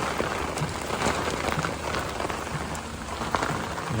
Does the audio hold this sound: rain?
yes